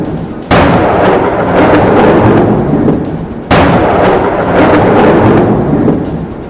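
Thunderstorm effect backing a narrated forest legend: two loud, sudden thunderclaps roughly three seconds apart, each rolling into a long, dense rumble, with no voice over the sound.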